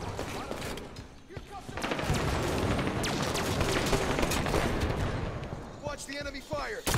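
Dense, sustained gunfire from a Halo 5 multiplayer match, with rapid overlapping weapon shots and bursts filling the scene while voices talk over the action.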